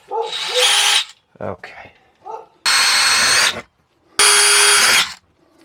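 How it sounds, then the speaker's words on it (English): A power drill whirs in three loud bursts while driving screws into the interior wall of an ambulance being converted, with short pauses and brief spoken words between runs. "when you're drilling and screwing into the walls of the rig"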